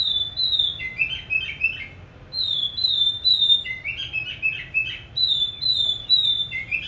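A tame pet songbird chirps from its cage in repeated bursts of high whistled notes. The calls are close and clear over a faint background hum, and no one speaks.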